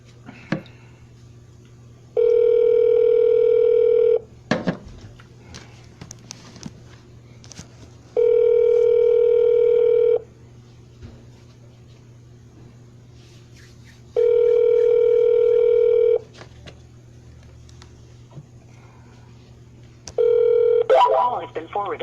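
Repeated telephone dialing tones and dial tone from a triple-line auto dialer used for real estate cold calls: three long steady tone bursts spaced evenly apart, with a fourth starting at the end over a low background hum and faint clicks.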